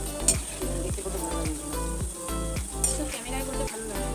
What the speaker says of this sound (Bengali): তেলের মধ্যে প্রথমে যে বড়াগুলো ছেড়েছিলাম সেইগুলো কিন্তু বেশ লাল লাল করে একপাশ ভাজা হয়ে গেছে সেইগুলোকে আস্তে আস্তে উল্টে দিচ্ছি